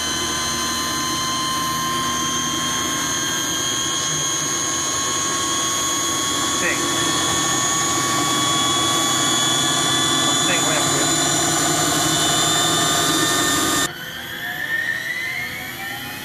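The electric motor of an Eliica electric car spins on a test stand, giving a loud, steady high-pitched whine with layered tones that holds throughout, then shifts abruptly near the end.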